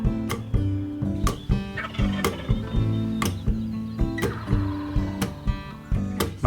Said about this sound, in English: Every turkey hunter dreams of hearing that first gobble of the season.